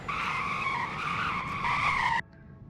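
A Tesla brakes hard and its tires squeal in a loud, sustained screech for about two seconds before cutting off abruptly to near silence.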